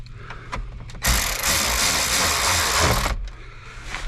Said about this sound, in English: we're going to go ahead and put the two screws back in